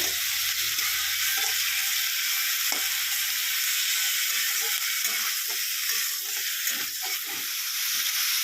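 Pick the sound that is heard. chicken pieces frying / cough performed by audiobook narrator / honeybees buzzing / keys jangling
chicken pieces frying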